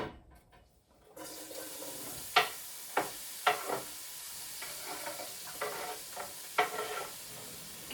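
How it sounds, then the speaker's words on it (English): Chopped onion hits a hot pan and sizzles with a steady hiss, broken by repeated stirring scrapes and clatters of a utensil against the pan, close up and with no talking. "You can hear that beautiful sizzle."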